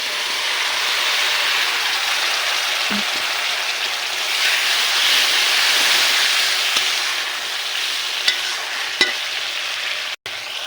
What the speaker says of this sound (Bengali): মশলা কষানোর জন্য দিয়ে দিব অল্প করে জল